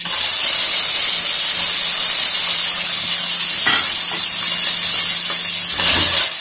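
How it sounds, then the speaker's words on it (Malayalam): Coconut pieces frying in hot oil with popping mustard seeds for a jackfruit seed curry, a loud steady sizzle and hiss up close with a few brief crackles, no talk. "നമുക്കപ്പോൾ ഇതിനകത്ത് തേങ്ങാപ്പൊക്ക ആഡ് ചെയ്തൊന്ന് ഫ്രൈ ചെയ്തെടുക്കാം."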